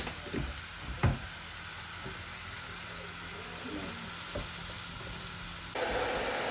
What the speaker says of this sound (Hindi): तो जब थोड़ा सा प्याज आप भून लें